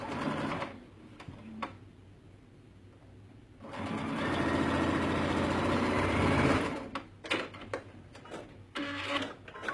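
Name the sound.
sewing machine stitching fabric along a seam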